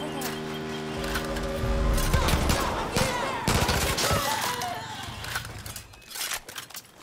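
Far Cry: New Dawn gameplay gunfire, a dense run of rapid shots and bursts layered over game music and ambience, loudest in the middle and thinning out toward the end.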